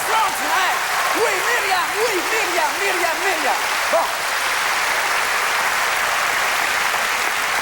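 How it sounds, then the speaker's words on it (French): Dense, sustained applause fills the hall at a 1994 comedy gala. Someone talks over the clapping at first, and the applause then carries on steadily alone. "On l'applaudit, mesdames et messieurs, c'est extraordinaire."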